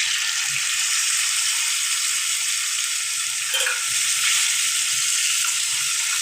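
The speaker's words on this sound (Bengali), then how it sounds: "তেল গরম হয়ে গেছে, মাংসগুলো দিয়ে দিলাম।" Spiced chicken pieces fry in hot oil in a wok, giving a loud, steady, close hiss and crackle that continues without a break, with faint stirring knocks now and then.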